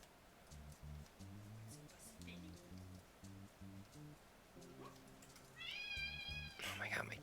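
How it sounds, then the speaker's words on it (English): A pet cat meows repeatedly indoors, several drawn-out cries near the end, over a background of talk and a faint pattering like rain. "She's freaking meowing like crazy over there."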